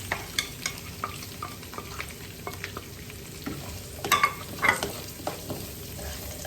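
Onions frying in hot oil with curry leaves for chicken masala, a continuous sizzle broken by repeated scraping stirs of a spoon against the pan, close and clear.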